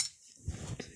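Fried raw banana and potato pieces are lifted out of a pan into a bowl, with a few close, light metallic clinks and scrapes of a utensil against cookware, alone.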